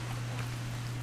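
Steady rain in What Remains of Edith Finch, a constant wash of falling water with a low hum beneath it, even and unbroken throughout.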